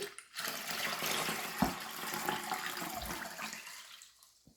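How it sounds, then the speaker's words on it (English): Water pours steadily into a pot of butter beans as cups of water are added to the beans, a continuous splashing rush that fades out at the end. "now we're going to add some water to our beans"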